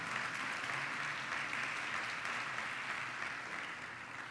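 A church congregation at a family worship service applauds steadily, dense clapping filling the hall at moderate distance for several seconds before easing slightly.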